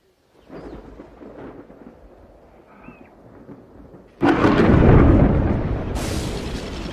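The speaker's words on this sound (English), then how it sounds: "The storm ignites the bush," A thunderstorm over the bush: quiet rumbling gives way to a sudden heavy crack of thunder that rolls on loudly, with a second sharp burst near the end.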